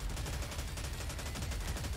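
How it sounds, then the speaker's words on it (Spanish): Rockets fire in a video game as a loud, continuous barrage of rapid blasts and rumbling explosions with no pause. "Esos cohetes andan con todo."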